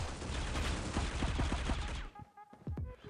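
Rapid automatic fire from an MP7 submachine gun in the mobile shooter Critical Ops, a dense, loud burst of shots that stops abruptly, followed by a few scattered single impacts and clicks.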